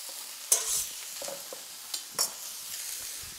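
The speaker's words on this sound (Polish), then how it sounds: "Na oliwie do garka wrzucamy cebulkę" Onion tossed into hot olive oil in a pot, a sharp hit and burst of sizzle followed by a few scraping stirs and clinks, close up with quiet frying between.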